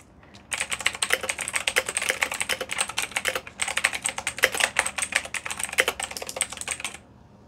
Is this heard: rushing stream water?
no